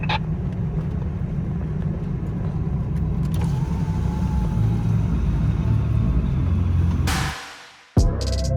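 A 4WD vehicle creeps down a hill in 4 low, first or second gear, its engine a steady low rumble heard from inside the cab, ending in a brief rising whoosh and then a sudden thump.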